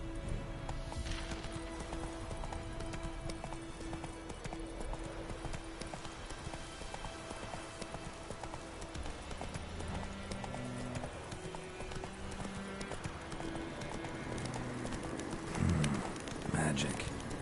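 The horse Roach's hooves clip-clop in a quick galloping rhythm in The Witcher 3, with game music and ambience underneath, a few bird coos, and a louder thump near the end.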